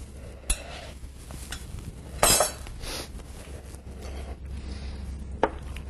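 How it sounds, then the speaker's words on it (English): Ingredients for a lobster and bow-tie pasta salad with peas and tarragon being gently folded in a bowl, with soft scraping and a few light clinks of a utensil against the dish at close range. "I'm just folding all the ingredients together."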